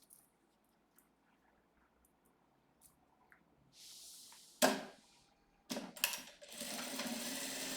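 A sewing machine stitches the lining of a vanity case bag, first a brief whir after soft handling noises, then a longer close, steady run of stitching to the end.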